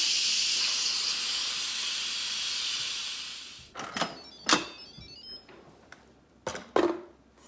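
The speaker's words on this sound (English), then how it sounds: "The timer just went off, so I'm gonna release the steam." A loud, steady hiss of steam rushing out of an Instant Pot pressure cooker for several seconds, then it cuts off, followed by a few clicks and knocks nearby.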